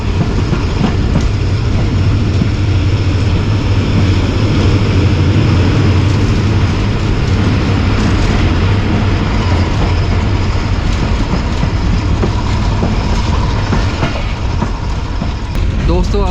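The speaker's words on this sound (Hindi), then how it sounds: "ये भी रेलगाड़ी है भाई, एक इंजन और एक डब्बे के साथ।" Single-engine motor rail car with one carriage rolling past on a Pakistani railway line near Shahdara, a loud, continuous rumble with clickety-clack wheel noise throughout, close by and steady for the whole stretch.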